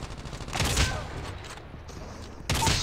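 Bursts of rapid gunfire, including sniper shots, from Call of Duty Mobile on the Scrapyard map. A dense volley is followed by a short lull, then another loud burst.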